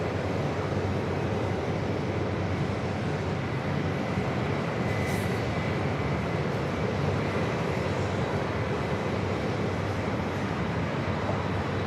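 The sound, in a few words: Atlas Air flight from Anchorage arriving on JFK runway 4 left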